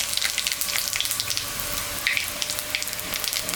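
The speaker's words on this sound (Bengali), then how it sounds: "মাছ ভাজা তেলের উপরে শুকনো লঙ্কা জিরা তেজপাতা সম্বরা দিলাম" Dry red chilli, cumin and bay leaf tempered in oil left from frying fish, a hissing sizzle with rapid small crackles and pops, fairly close and uneven in loudness.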